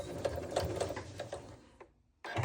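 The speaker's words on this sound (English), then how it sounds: "we're going to keep the needle down, lift the presser foot, and angle off" A sewing machine stitches quilt binding in a fast, even whirring run, then halts abruptly at the corner, leaving near silence before another noise starts.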